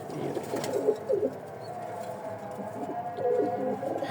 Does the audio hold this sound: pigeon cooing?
yes